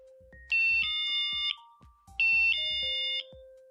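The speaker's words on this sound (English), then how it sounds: "The chimes let you know that it's being set." A battery-powered motion alarm mounted on a wall bracket gives two bursts of bright electronic chimes as it is switched on and set, each a short rising ding followed by a held tone, close and clear with quiet gaps between.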